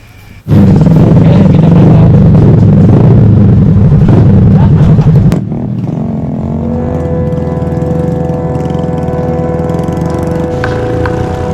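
A motorcycle engine in Kalimantan, Indonesia, roars loudly nearby, then drops to a steadier, quieter idle rumble for the rest of the clip.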